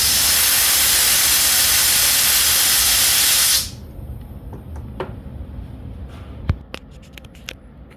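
A loud, steady pressurized hiss of fuel spraying from a leaking fuel injector on a test setup for several seconds cuts off abruptly, leaving quiet drips and faint clicks.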